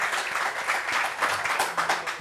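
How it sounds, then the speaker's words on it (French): Audience applause in a French-speaking discussion gathering: a dense, steady patter of clapping throughout, fairly close and even in loudness, with no clear voices over it. "Applaudissements pour elle un peu."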